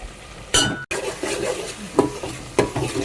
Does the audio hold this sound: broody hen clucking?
no